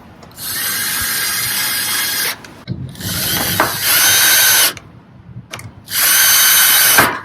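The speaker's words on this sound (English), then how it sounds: "if you have like a power tool, then you can definitely use that" A power tool drives screws into a YAHEETECH raised garden bed in three loud, steady whirring runs, each a couple of seconds long, separated by brief pauses and a few short clicks.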